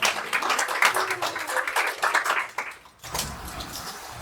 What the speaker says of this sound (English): So can you please give Amy a big round of applause?